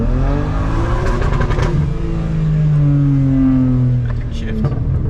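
A street car running a drag transmission tune revs hard through rising gears, its engine note climbing and dropping with shifts and a faint burble, loud and near, with people talking over it.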